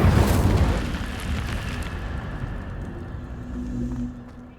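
A booming, rumbling fire blast from the Incendio spell in Hogwarts Legacy bursts loudly at the start and then rolls off into a lingering low roar over a few seconds.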